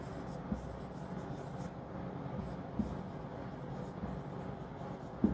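Marker or chalk strokes on a board in a classroom lecture, faint and scratchy with a few soft taps, over low room noise.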